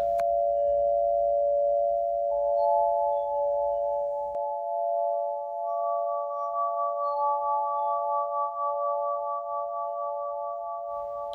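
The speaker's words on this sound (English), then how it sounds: "You can use the very long resonance of the crystal harp to create beautiful" Crystal harp played with water, ringing in long, steady sustained glassy tones that layer into a blended chord as further pitches enter, with a faint low rumble early on and no voices.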